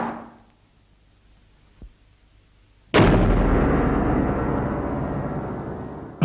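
A bomb-like explosion in a film lands as a sudden, loud boom after near silence and a faint thump, then rolls on as a long, heavy rumble that slowly fades.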